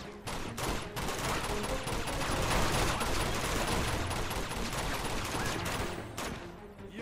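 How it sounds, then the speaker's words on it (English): Gunfire from the video game Uncharted 2: Among Thieves, dense overlapping bursts of automatic fire and single shots crackling steadily for several seconds, loud and continuous with short gaps. "So stop your stupid shooting action."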